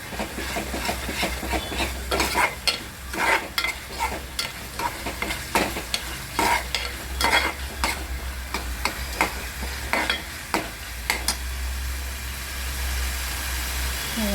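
Masala for a spicy liver (kaleji) chicken curry cooks in a pan. A continuous sizzle runs under repeated scraping stir strokes and clinks from a spoon, with a low steady hum behind and no talk.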